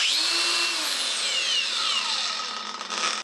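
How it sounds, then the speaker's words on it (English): Milwaukee M18 Fuel CAG 125X cordless angle grinder spins up with a high whine that slowly falls in pitch as the motor coasts down, close and loud throughout, with no talk. "and then you can switch the grinder on."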